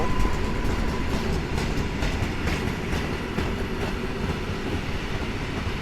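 Trains rumble past at Warszawa Zachodnia station during its rebuild, a heavy unbroken roar of rail traffic with faint rhythmic clicking from the wheels, loud and close throughout.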